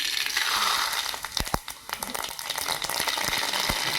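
Mustard seeds alone crackle and pop in hot oil, a dense hiss of frying broken by sharp close pops and a few louder spits, steady throughout with no voices.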